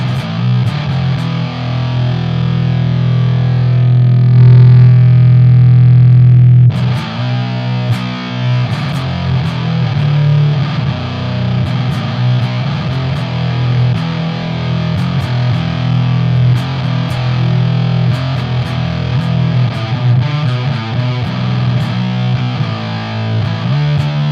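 Heavy distorted electric guitar run through a Classic 30 amp simulator plugin, playing thick sustained riffs with a brief change around seven seconds, loud and continuous with no talking.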